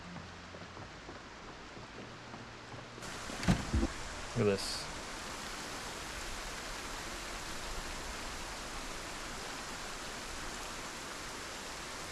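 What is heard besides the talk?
rain in the video game Project Zomboid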